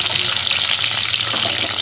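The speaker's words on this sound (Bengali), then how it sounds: "প্রথমে আমি পটলগুলোকে নুন হলুদ মাখিয়ে ভালো করে ভেজে নেব।" Pointed gourd pieces coated in salt and turmeric fry in hot oil, giving a loud, steady, dense sizzle close up with no talking.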